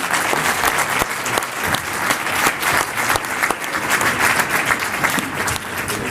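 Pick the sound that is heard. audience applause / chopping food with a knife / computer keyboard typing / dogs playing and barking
audience applause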